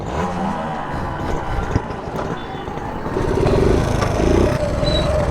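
Motorcycle engine idling with a rough rumble, then revved with a rising roar, loud and close, with brief voices nearby.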